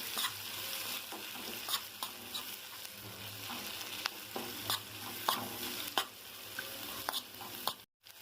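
Green chillies and capsicum frying in a pan for a palya dish, a dense close sizzle with frequent scraping stirs and spatula taps, ending with a brief cutoff, no talking.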